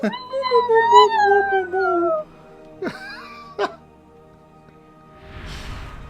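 A person's voice imitates a hound dog's howl, a long wavering tone that rises and falls for about two seconds, followed by short yelps and quieter noise.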